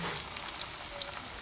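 Bread-crumb coated bread pocket shawarma fries in a pan with a soft, steady sizzle and a few faint crackles, heard briefly and quietly without talk.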